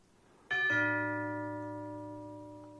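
A single doorbell-style bell chime rings out clearly in silence, its bright tone struck twice in quick succession and then left to ring on and slowly decay over a couple of seconds.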